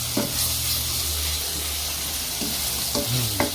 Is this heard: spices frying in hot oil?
yes